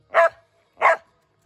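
A dog gives two sharp, loud barks about half a second apart, close by, with silence between and after them.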